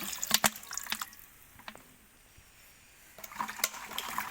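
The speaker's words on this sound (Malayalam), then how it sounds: "ഇനി ഇതിലേക്ക് നമുക്ക് വിനാഗിരി ഒഴിച്ചു കൊടുക്കാം" Vinegar poured into a salt water mixture makes a splashing, trickling pour at the start, a quiet pause, then another burst of liquid splashing and dripping toward the end.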